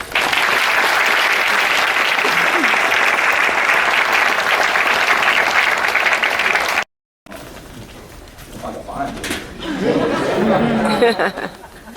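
An audience welcomes panelists at a Q&A event with loud, sustained applause mixed with chatter. The clapping cuts off abruptly, and quieter murmuring and a voice follow.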